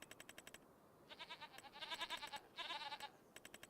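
Goats, including a baby goat, bleat in Farming Simulator 25 on a realistic farm map. Wavering, quavering bleats come in two bursts, set between quick rapid ticking, all fairly quiet.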